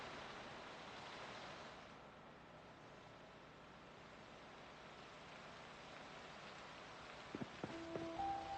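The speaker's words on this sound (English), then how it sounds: "Looks like the rain is not gonna be letting up anytime soon." Steady rain hisses in the Project Zomboid video game, a soft, continuous wash of low-level noise with a few faint clicks near the end.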